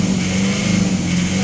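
A car engine runs at held revs around 4,000 RPM after an engine smoke-treatment additive, a steady close hum with a firm low tone, while someone talks over it.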